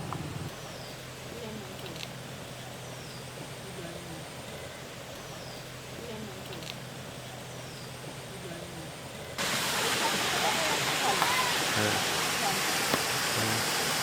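Water flowing out from a pipe at Ajodhya Pahar in Purulia, a steady broadband rushing that stays even, then grows suddenly louder and brighter near the end, continuous with no clear voices.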